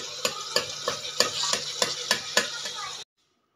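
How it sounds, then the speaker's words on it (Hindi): Bottle gourd bharta being mashed and stirred in a hot pan with oil, giving a steady sizzle broken by regular soft scraping strokes about every third of a second, close and fairly loud, then stopping abruptly. "अगर आपको मैश करके पसंद है तो आप इसको साथ साथ ऐसे ऐसे मैश करते रहें"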